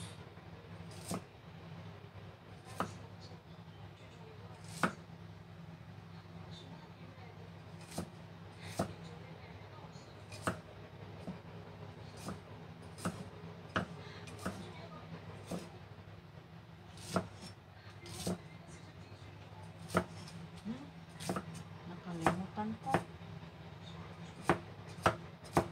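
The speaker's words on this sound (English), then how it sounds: "Mince lang ng konti." A knife mincing round onions on a board, sharp isolated chops spaced a few seconds apart over a low steady hum, close and fairly clear.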